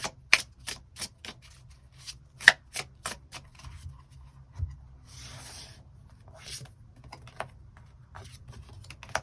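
Tarot cards are handled and shuffled close by, with a series of sharp crisp taps and flicks followed by a brief riffling burst over a quiet low hum.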